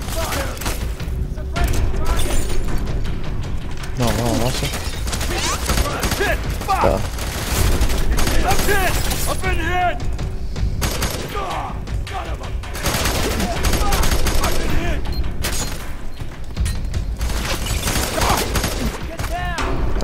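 Sustained suppressing gunfire in the video game F.E.A.R. 3, with loud, dense automatic bursts and booms running throughout while voices shout over the battle.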